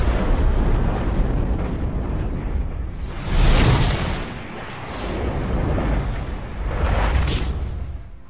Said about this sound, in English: its atoms split with devastating force. A nuclear explosion.